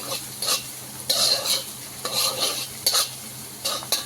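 Garlic and green chillies fry in a pan for street-style veg noodles, a close sizzle with bursts of brisk stirring and occasional utensil clinks.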